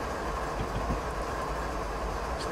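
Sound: BNSF ES44DC locomotive coasting, from video game Train Simulator 2016

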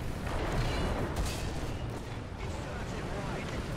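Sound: anti-aircraft gunfire in War Thunder video game

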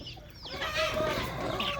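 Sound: Seelam breed fighting roosters clucking

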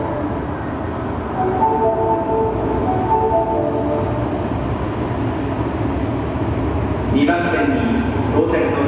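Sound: subway train arriving at station

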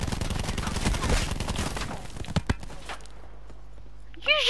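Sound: gunshot in video game Call of Duty Black Ops 4

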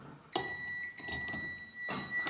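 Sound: multimeter continuity buzzer beeping

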